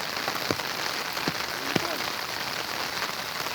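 Steady rain patters hard on the ground in a dense, even hiss during an outdoor skateboarding session, with a few sharp knocks standing out above the downpour.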